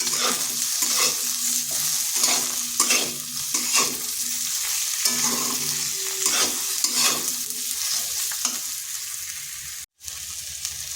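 Okra frying with salt and turmeric while being stirred, a spatula scraping the pan in a quick rhythmic series over a steady sizzle. Close and alone, with a brief dropout near the end.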